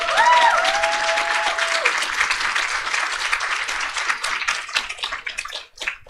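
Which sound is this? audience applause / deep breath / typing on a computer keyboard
audience applause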